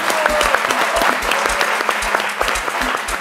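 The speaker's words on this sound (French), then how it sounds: "Ça s'applaudit." Audience applause at an event held at the Parc des Expositions in Abidjan, a steady burst of dense clapping from a crowd, fairly loud and continuous throughout with no talk over it.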